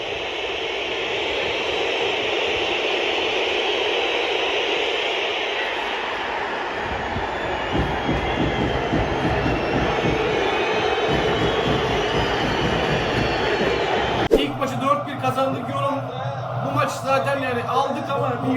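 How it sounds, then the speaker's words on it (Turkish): A loud, steady roar from a football crowd at Beşiktaş's home stadium during a match against St. Patrick's, a dense wash of noise that runs throughout, with a commentator talking over it. "İnanılmaz bir uğultu var Sami İnönü'de."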